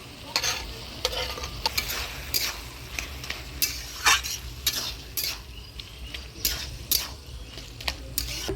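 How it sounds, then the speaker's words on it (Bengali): Spiced banana flower being stirred in a pan for mocha ghonto, with fried potatoes added, giving repeated scraping and clinking strokes over a steady low sizzle, close and fairly loud with no talking. "মোচা দিয়ে মশলার সাথে নাড়াচাড়া করে নিলাম, এবার ভাজে রাখা আলুগুলো দিয়ে দিই।"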